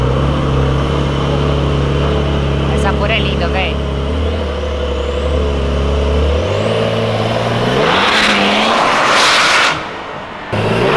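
A Porsche sports car pulls out at the car exit of an event, its engine droning loudly and then revving up in rising surges, close by under excited talk in Portuguese.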